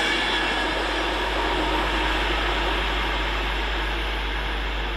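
A Pendolino train rushes past on the West Coast Main Line at Stafford, producing a loud, steady, broadband roar with a low rumble throughout and no voices.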